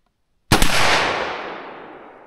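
.357 Magnum round fired from an 18-inch barrel rifle: a single sharp, loud crack followed by a long decaying echo tail.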